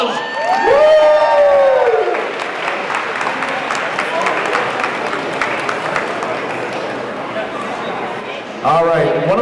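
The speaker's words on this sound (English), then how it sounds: "Do me a favor, give everybody a round of applause!" Crowd at the Philippine Festival of Malden cheering and applauding, with a loud whoop at the start fading into sustained clapping, and a voice coming back in near the end.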